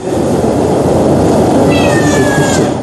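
A cat meows over a loud, dense background din, with a thin high-pitched cry standing out in the second half of the brief stretch and no talking.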